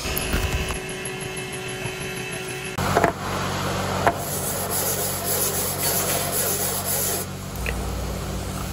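Sandpaper rubs steadily and harshly across brake pads as they are levelled during brake repair work, a continuous close scraping with a couple of sharp knocks.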